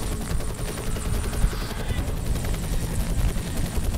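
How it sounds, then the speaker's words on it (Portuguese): Steady, loud helicopter rotor chop and engine roar in the video game F.E.A.R. Extraction Point fills the whole stretch, constant and close, with no talking over it. "Tem helicóptero?"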